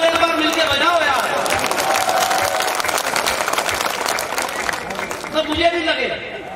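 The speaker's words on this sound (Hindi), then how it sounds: "ताली कमजोर एक बार मिलके बजाओ यार।" Applause from an audience at a Hindi kavi sammelan poetry stage event in Bhilwara, Rajasthan, a dense sustained clapping that holds steady for several seconds and swells slightly near the end, with crowd voices mixed in.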